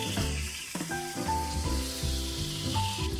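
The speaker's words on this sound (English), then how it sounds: "set the pressure cooker to saute and then lightly brown your meat on all sides" Pork adobo meat browning on the saute setting of a pressure cooker, a steady close sizzle and crackle running throughout, with no one speaking.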